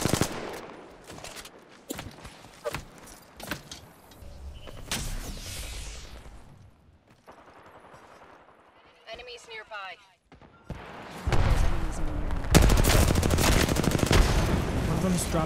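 Loud sniper gunfire from a Kraber rifle in Apex Legends, with heavy sharp shots and bursts of other gunfire in a chaotic battle, mixed with players talking over the action.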